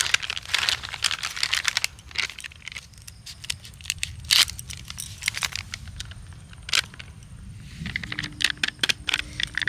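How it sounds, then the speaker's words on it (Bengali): Powdered milk packets are cut open and emptied onto a plate, making irregular bursts of crisp plastic crinkling and rustling, close up, with quiet pauses between handling sounds. "এই পাঁচটা প্যাকেটের গুঁড়ো দুধ আমি একে একে কেটে এই থালার মধ্যে নিয়ে নেব"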